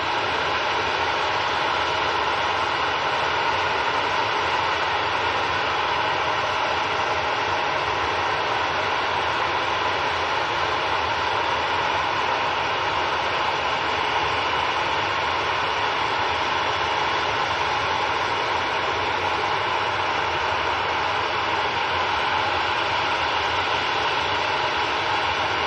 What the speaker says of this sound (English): This is the TUI to Reykjavik,